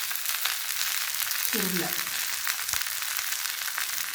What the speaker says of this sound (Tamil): வெண்டைக்காயும் நம்ம பச்சை மிளகா பொடி பொடியாக நறுக்கி சிக்கனில் ரெண்டையும் சேர்த்து நல்லா வதக்கிடணும்